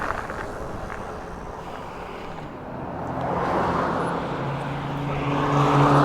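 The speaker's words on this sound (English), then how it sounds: "Pull off the road and let this car by." A car approaches and passes on a road, a broad whooshing rumble that swells steadily louder over several seconds, heard close from the roadside.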